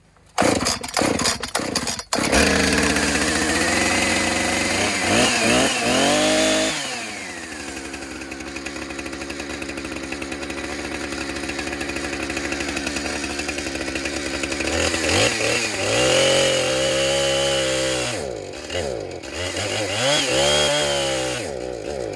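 A repaired chainsaw fitted with new parts pull-starts after a few sharp tugs and runs steadily, loud and close, with its engine revving up and settling back several times.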